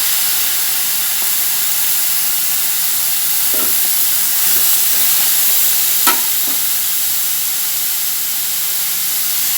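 Tomatoes and onions sauté in a hot pan with a steady, close sizzle, broken by occasional scrapes of stirring, while making chana masala; no one speaks.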